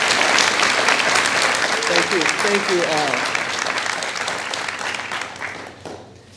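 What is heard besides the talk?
graduates' round of applause at commencement ceremony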